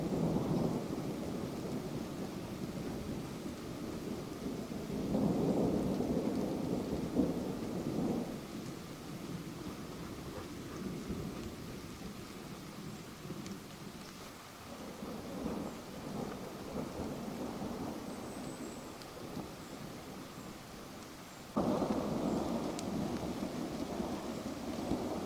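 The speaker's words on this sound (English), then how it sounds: "Oh, the rain, so refreshing." Steady rain falls through a storm while low rumbles of thunder roll in and out in several swells, the downpour continuous and hissing beneath them.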